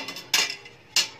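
Metal stand set into a steamer pot holding a glass of water for suji dhokla, two sharp metallic clinks about half a second apart with faint rattles between them, close and alone.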